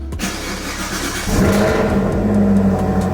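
A Camaro ZL1 1LE cranks and fires up close by, the starter catching into a loud engine that flares with a rev before settling into a steady, throaty idle.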